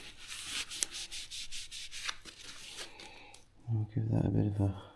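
A motorcycle wheel axle is wiped clean during a tube change, with quick close rubbing and scraping strokes for about three seconds before a person starts talking.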